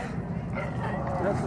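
A dog lets out a few short yipping barks close by, mixed in with people talking over it.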